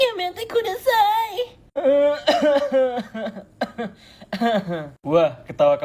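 One voice runs through a series of different kinds of coughing, from hacking bursts to drawn-out, moaning and whimpering coughs, loud and close, with short gaps between each.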